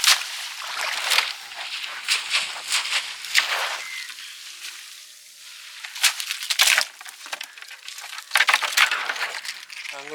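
A boat passes on the water off Oori village near Jaffna, heard as uneven splashing and wash surges with a faint low engine drone, rising and falling over several seconds.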